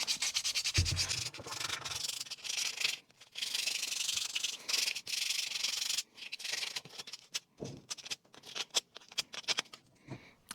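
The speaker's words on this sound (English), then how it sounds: "Then just give it one last sand." Sandpaper rubbing across a wooden phone holder in short, brisk back-and-forth bursts separated by brief pauses, close and scratchy with no talking.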